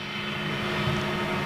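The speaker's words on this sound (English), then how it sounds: "Oh, it's a C-17, USF or C-17" Boeing C-17 Globemaster jet engines roaring at Cologne Bonn Airport, a steady broadband rumble that swells slightly toward the end, fairly close and loud with no voices.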